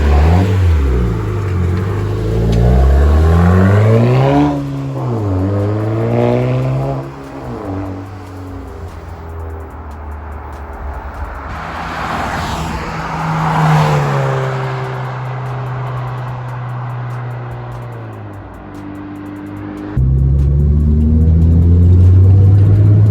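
A Nissan Juke Nismo RS with a two-tip exhaust revs repeatedly, the engine pitch rising and falling in several sweeps before settling into a steady higher drone and a final deep rev; loud and close.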